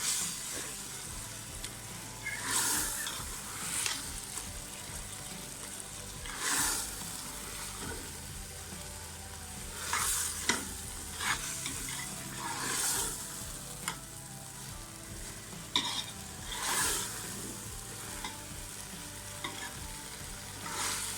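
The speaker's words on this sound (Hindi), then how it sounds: "और अब दाल के अंदर, इसके अंदर अच्छे तरीके से इसकी बुनाई करेंगे।" Chana dal and bottle gourd fry in oil for a dhaba-style dish, with a constant sizzle and a spoon scraping the pan in regular stirring strokes every few seconds. No voices are heard.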